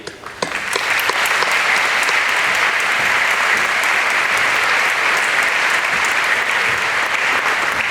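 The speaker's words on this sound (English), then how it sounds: "let's join in a round of applause for you." Graduation ceremony audience in a school setting breaks into loud, sustained applause, swelling quickly after a few opening claps and staying dense and even throughout.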